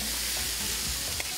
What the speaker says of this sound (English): the sizzling yakisoba with pan-seared noodles, chicken, and fresh veggies